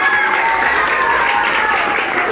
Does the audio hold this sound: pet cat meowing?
no